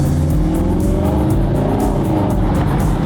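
A loud Mercedes AMG SLS engine roars steadily under load, its pitch rising and wavering throughout, close and continuous with no talk.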